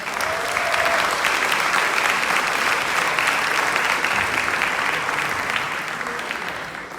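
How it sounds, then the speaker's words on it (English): A crowd at a formal awards gala applauds a title sponsor, sustained thick clapping at steady volume that tapers slightly toward the end. "Give him a round of applause."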